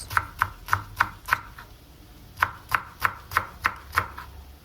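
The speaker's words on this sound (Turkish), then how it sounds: "Dört adet kıl biberi de ince ince doğrayıp kıymalı iç harcımızın üzerine ekliyoruz" A knife chops chili peppers rapidly on a cutting board in two quick runs of sharp, even taps, close and clear with no talking.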